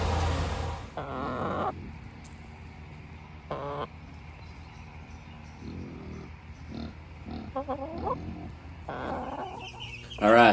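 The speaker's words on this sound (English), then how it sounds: "we are now inside the chicken brooder, which is located in one of the barns on campus" Chickens cluck and squawk in bursts inside a campus barn brooder, several birds calling close by with short quiet gaps between the outbursts.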